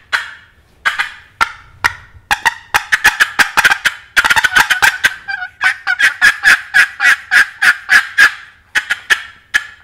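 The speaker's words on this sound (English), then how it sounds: "you take your thumb and you put it right there on the side of that call to hold the lid, and then you just tap the side of the lid." A wooden turkey box call worked by tapping the side of its lid with the thumb holding it, giving close, loud, sharp cuts and yelps in quick uneven bursts that settle into a steady run of rapid notes.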